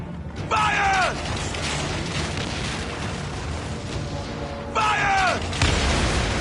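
Ship cannons firing in Assassin's Creed Origins, heavy booms with creaking wooden mechanisms, two loud bursts a few seconds apart over a constant rumble of battle.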